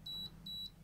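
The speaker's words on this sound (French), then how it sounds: "À peine démarré, on a une petite alarme avec le code" Alarm beeper on a Deville kerosene heater going off at startup with a CO2 sensor fault, repeating short, steady, high-pitched electronic tones about every 0.4 seconds over a low fan hum.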